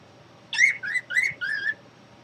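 A pet bird whistles a short chirpy phrase of four bright, rising notes, close and clear against a quiet room, with no talking.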